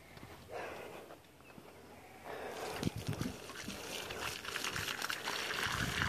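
Water poured from a container onto the soil around a newly planted avocado tree, a faint trickling and splashing that comes in bursts and grows fuller toward the end, with no voices.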